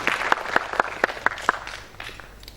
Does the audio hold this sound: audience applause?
yes